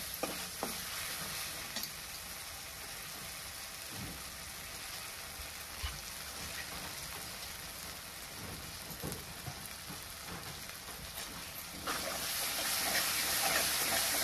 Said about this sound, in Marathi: आपल्याला ही मसाला असा तेलामध्ये हलवायचा